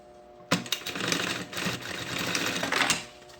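A sewing machine topstitches a seam on a synthetic-fabric backpack panel, its steady run kicking in sharply after a brief silence and buzzing close and continuous for a few seconds before winding down.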